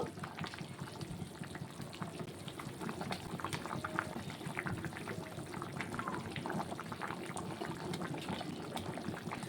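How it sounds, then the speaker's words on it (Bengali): A pot of hilsa fish curry with green banana and potato broth boils steadily on the stove, a dense, continuous bubbling and simmering that stays close and even throughout with no talking. "তরকারির ঝোলটা কিন্তু ফুটে গেছে"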